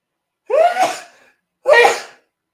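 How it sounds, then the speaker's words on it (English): Two loud, close sneezes a second apart, each a sharp burst that trails off, with silence around them. "That sneeze was insane."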